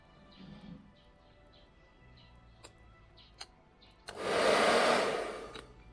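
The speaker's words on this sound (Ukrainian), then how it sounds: "давайте спробуємо тепер фен підключити і включаємо так" After a few faint ticks and clicks, a hair dryer powered by a Segway Cube-1000 portable power station switches on with a loud, steady whoosh of blowing air that continues to the end.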